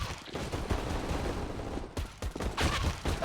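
Rapid Glock pistol shots crack in quick bursts during a CS:GO match replay on Inferno, with several dense volleys and sharp reports over busy game background.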